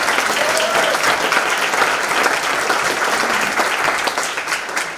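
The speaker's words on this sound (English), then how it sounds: "So we can give all of them a big round of applause." Sustained audience applause for volunteers at an arts venue's live evening event, dense steady clapping filling the room at a loud, even level before tapering slightly near the end.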